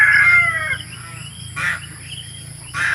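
Several hungry farm chickens cluck and call in short bursts, with ducks kept nearby, one near the start and two more later, over a low steady background hum.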